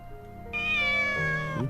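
Monet the cat meows once in the game Corpse Party Book of Shadows, a single clear, drawn-out cry that bends downward near the end, close and loud over quiet background.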